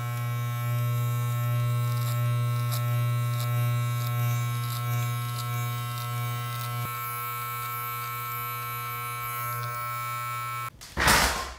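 Cheap electric hair clippers cutting hair during a self-administered mid fade, a close, steady motor buzz with faint snips as the blades move, ending in a brief loud rustle.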